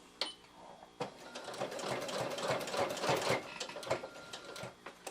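A domestic sewing machine stitching down a mitred corner of quilt binding made from the backing fabric, running in a steady rapid whirring burst after a couple of short starts, close and clear with no talk.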